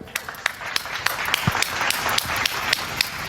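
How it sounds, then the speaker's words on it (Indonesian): Scattered applause from a small audience at a talk, light uneven clapping that builds slightly over a few seconds, with faint background murmur. "Tepuk tangan buat kita"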